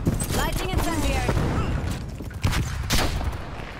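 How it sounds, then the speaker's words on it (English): A flashbang and an incendiary grenade going off in Call of Duty Cold War on the Nuketown map: a few sharp bangs and pops amid game chatter, with a voice speaking throughout. "Flashbang out. Lighting incendiary."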